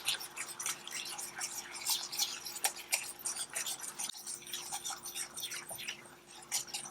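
Caramel bubbling in a cooking pan, dense rapid popping and crackling at close range with a faint steady hum underneath and no talk.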